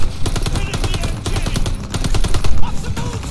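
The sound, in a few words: machine gun fire in Call of Duty Vanguard video game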